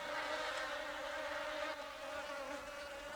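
Continuous high-pitched insect buzzing, steady and droning like a swarm of bees nearby, with no voices.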